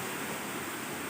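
Rushing waterfall at an unmanaged site, a loud, dense, continuous roar of falling water, close and uninterrupted.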